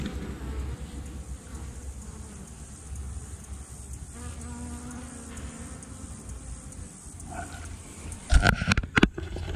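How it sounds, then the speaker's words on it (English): Bees buzzing around a garden plot, a faint continuous hum with occasional closer passes, ending with a few loud rustling knocks near the microphone. "Let's see if you can hear the bees."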